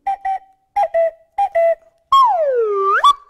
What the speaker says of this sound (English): a quick little tri-whistle thing that I can do a cuckoo